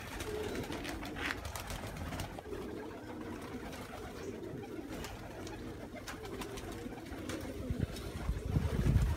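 Pigeons coo softly and steadily amid a low, continuous background rumble, with occasional faint rustles and pecking sounds nearby.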